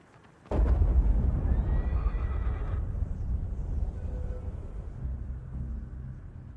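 A horse in Shadow of the Colossus lets out a loud, close whinny that rises sharply and trails off, followed by a long low rumble with no talking.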